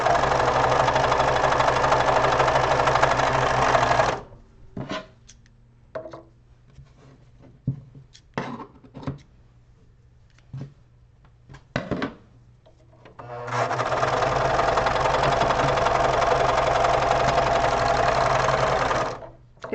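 Sewing machine stitching and trimming cotton rounds, its loud steady whir running for about four seconds, then a stretch of scattered clicks and knocks, before the motor runs continuously again near the end.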